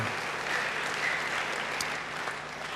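A church congregation claps together during a sermon, a steady wash of applause heard at a moderate distance that holds even and then eases slightly toward the end.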